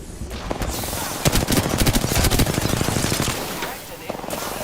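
Rapid automatic gunfire in the Apex Legends video game rattles in fast bursts, loud and close, over background game sounds.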